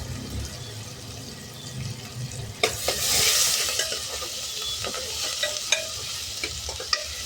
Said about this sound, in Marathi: कांदा थोडा लालसर करून घ्यायचा आपल्याला, म्हणजे तेलात बटाटाही शिजवून घ्यायचा